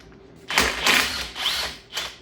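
Ratchet working the crank snout nut on a 1970 Triumph TR6 PI engine: a few close, loud bursts of ratcheting clicks separated by short pauses, with no talk.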